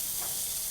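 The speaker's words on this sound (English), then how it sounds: "We're dry frying these because the oil will come out of the chorizo." Chorizo and prawns dry frying in a pan without oil make a steady, soft sizzle with a fine crackling hiss throughout the brief moment, quiet and unaccompanied by talk.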